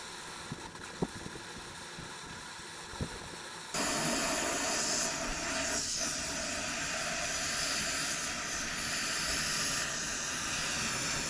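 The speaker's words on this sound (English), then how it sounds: "starting to boil" Water coming to a boil in a FireMaple Petrel ultralight backpacking pot on a camp stove, a few faint ticks giving way to a loud, steady hissing roar that continues unbroken.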